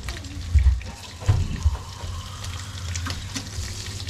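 Water pours into a cooking pot to make soup broth, a close splashing gush with a few heavier bursts at the start, then a steadier running flow.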